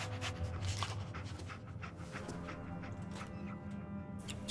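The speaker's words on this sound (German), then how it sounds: "Dogmeat, schnüffel mal da dran." Dogmeat, the dog companion in the Fallout 4 game, sniffs and pants softly nearby as a run of quick, breathy puffs over low game ambience.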